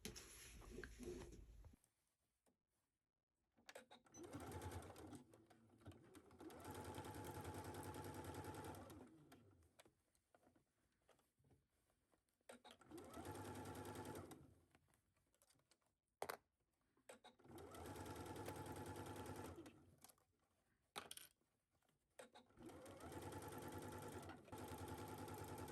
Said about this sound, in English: we're going to take this to our sewing machine and sew it down at 5/8